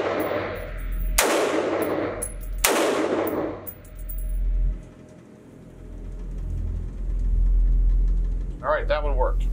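A CheyTac CT-15 rifle fed from a SureFeed magazine fires two loud, booming shots a second or so apart, each trailing off into outdoor range ambience, followed later by a brief clank.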